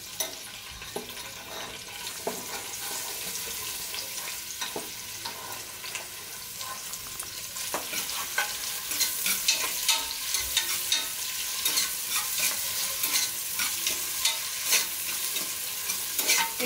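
Chopped large onions fry in a pressure cooker pot for chicken biryani while being stirred; a continuous sizzle carries repeated scraping and clinking strokes that grow busier and louder toward the end.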